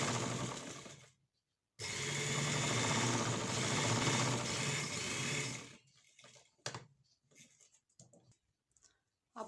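A sewing machine stitches the sleeve of a frock in one steady, close run of about four seconds, then stops and gives way to a few scattered clicks and handling noises of the fabric.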